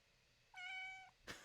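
A kitten gives one clear, high meow lasting about half a second, close and fairly loud in a quiet room, followed by a brief soft rustle.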